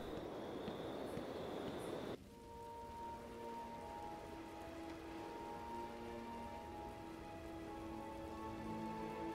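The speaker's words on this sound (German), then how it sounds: "Und hier regnet es jetzt." Rain in Batman: Arkham Asylum, a dense hiss of drops pattering on surfaces, loud at first, then dropping to a softer steady patter with faint tonal ambience layered underneath.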